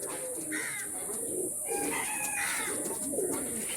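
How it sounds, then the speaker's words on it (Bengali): Pigeons coo steadily in a loft housing imported Teddy, Kamagar and Golden breeds, with several soft overlapping coos repeating close by over a constant background hum. "কোয়ালিটি অনুযায়ী তো কিছু পায়রা আছে না, কোয়ালিটি এরকম কোয়ালিটি, দেখো কোয়ালিটিফুল পায়রা।"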